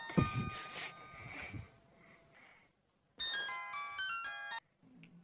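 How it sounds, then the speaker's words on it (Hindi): A phone rings unanswered in a Pakistani TV comedy scene, its electronic ringtone sounding in two bursts separated by a pause, with a softer tone near the end and no voices over it. "बेल हो रही है, कोई फोन नहीं उठा रहा।"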